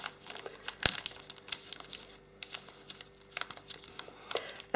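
Origami paper for a Santa model is folded and creased by hand, giving a run of crisp crinkles, soft rustles and sharp creasing snaps up close, uneven and intermittent with no voice.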